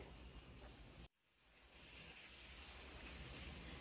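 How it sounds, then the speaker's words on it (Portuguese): Steady rain falls outdoors as a dense, even hiss, briefly cutting out for a moment before swelling back in, heard on its own with no voices. "começou a chover, então vocês vão ouvir um barulhinho de fundo, é da chuva caindo"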